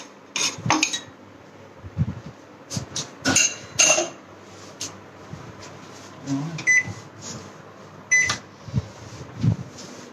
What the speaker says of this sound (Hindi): अब हम यहाँ पर अपना माइक्रोवेव सेट कर देते हैं